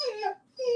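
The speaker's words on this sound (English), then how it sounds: "you have to excuse my dog" A short, high-pitched whine rises and falls twice, with a brief gap between, like a dog whimpering nearby.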